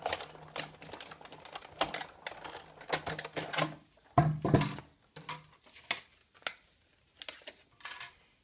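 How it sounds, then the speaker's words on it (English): A Big Shot die-cutting machine cuts Designer Series paper with oval framelits, giving a run of close, uneven mechanical clicks and crunches with brief pauses, with no talk over it. "So I'm going to run that through the Big Shot"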